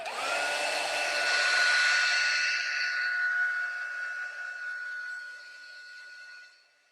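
Heat tool blowing hot air to dry wet Distress Oxide spray on a craft project, a steady whirring blow with a high whine that holds several seconds, then fades and cuts off.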